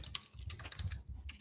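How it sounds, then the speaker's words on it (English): Quick, uneven clicks of computer keys being typed, soft and close, in a short burst without speech. "He's typing away back there."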